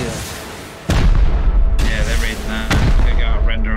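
Rocket explosions go off in a raiding video game, three loud booming blasts spaced roughly a second apart, each with a rumbling tail, and faint game sounds between them.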